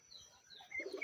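A Sirazi pigeon gives a short, soft coo close by, faint and brief against a quiet room.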